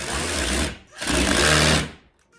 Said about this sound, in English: I put the screws back in, and then I just screw the screws